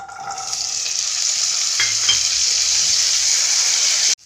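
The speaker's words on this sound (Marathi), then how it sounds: "आपण थोडेसे तेलामध्ये फ्राय करून घेऊ" Soaked chickpeas frying in hot oil, a loud, steady close sizzle with a couple of brief stirring scrapes, cutting off abruptly at the end.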